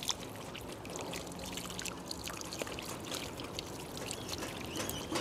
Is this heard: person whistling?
no